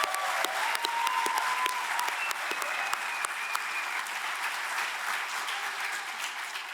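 A university audience applauds law and undergraduate students with sustained, even clapping, a few sharper individual claps standing out from the crowd.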